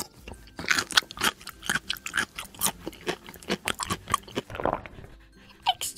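Loud, close, rhythmic crunching of extra crispy fast-food fries, a rapid run of crisp bites and chews with no talking.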